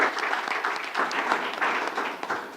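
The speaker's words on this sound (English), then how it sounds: "I'll ask us all to please applaud our panel fielding the questions." Audience at a corporate analyst briefing applauding the panel, a steady, moderately soft patter of many hands clapping together at some distance.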